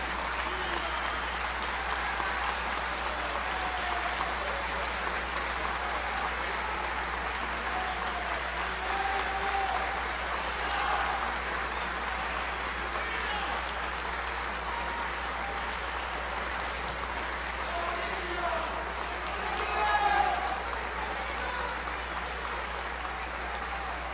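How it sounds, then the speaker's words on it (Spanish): A standing ovation from a large Venezuelan audience at a lecture event: sustained, dense applause that stays even and fairly distant throughout, with a faint voice briefly rising near the end. "Recibe de esta manera una ovación de pie del pueblo venezolano que vaya hasta el pueblo de Bolivia"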